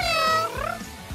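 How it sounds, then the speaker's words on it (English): A cat gives a single, close, clear meow that bends upward and then falls, followed by a short, quieter vocal trailing off. "Meow, meow, meow!"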